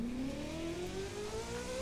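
A car engine in The Crew 2 racing game revs and climbs steadily in pitch, a smooth sustained drone that rises over its short span, close and even in level.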